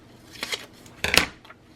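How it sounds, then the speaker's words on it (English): A few short snips of scissors cutting paper for a handmade booklet, quiet and close, in two small bursts with pauses between. "let me just use my scissors"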